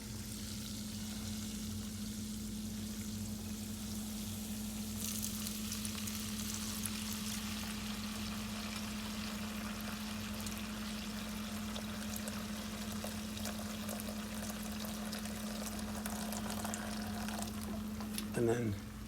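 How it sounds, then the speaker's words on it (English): Ghee pours steadily through a sieve during home cooking, a soft continuous trickle with a faint low hum underneath and a brief clatter near the end. "So now I'm gonna pour it into my sieve."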